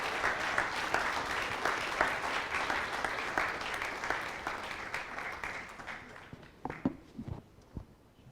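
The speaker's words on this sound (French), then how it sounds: "On peut les applaudir." Audience applause at an award ceremony for a jury's favourite prize, a dense stretch of clapping that thins into a few scattered claps before fading out.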